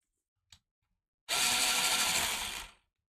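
An electric pencil sharpener grinds a pink colored pencil in one loud, close whirring burst lasting just over a second, after a faint click and quiet room tone.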